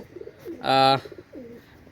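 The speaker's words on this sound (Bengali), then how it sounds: "একজোড়া পাকিস্তানি রামপুরি কবুতার" A pair of Pakistani Rampuri pigeons, with one brief, loud, resonant coo standing out amid softer, faint bird murmurs.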